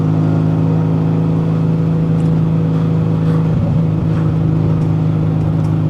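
1970 VW 1915cc air-cooled engine with dual 40 carburetors pulling hard in third gear, a steady loud droning hum with a faint pop as the throttle comes off partway through.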